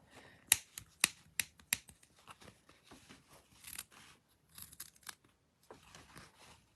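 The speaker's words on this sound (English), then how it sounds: "Then I'm going to take my scissors, and we're going to cut around the inside of that square" Scissors snip through fabric scraps in a quick run of close, crisp cuts, followed by softer, more scattered snips with short pauses between them.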